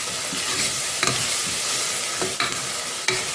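Small onions frying in oil in a pan, a steady close sizzle broken by a few brief scraping stirs of a spatula.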